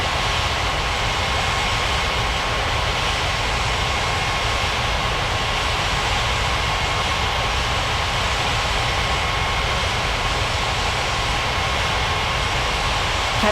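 A 3D flight game plays a steady, loud airliner engine drone as the jet taxis toward the gate, with an unchanging roar that fills the whole stretch.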